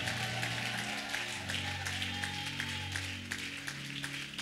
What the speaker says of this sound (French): J'aimerais entendre tes acclamations si tu crois à la puissance de la parole.